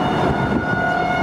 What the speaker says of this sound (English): tornado sirens going up in O'Neill, Nebraska